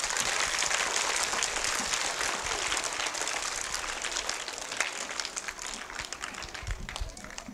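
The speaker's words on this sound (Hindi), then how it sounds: "तालियां इस बच्ची के लिए।" An audience at a school stage program applauds a young girl after her song, a dense, sustained wash of clapping from a crowd, loud at first and gradually thinning slightly, with no talk over it.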